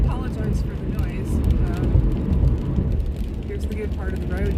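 Car driving along a road on a weekend outing, with steady low tyre and road rumble and engine drone close by, swelling and easing slightly, while a voice occasionally comes through over it.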